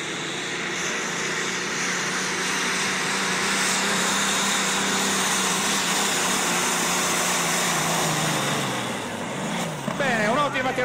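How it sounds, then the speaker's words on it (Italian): International tractor straining to pull a weighted sled at a tractor pulling competition in Babano di Cavour, a loud sustained engine roar throughout, with an announcer talking over it. "il suo trattore è stato riagganciato alla slitta e vai Fausto, facci vedere che cosa sa fare il tuo International!"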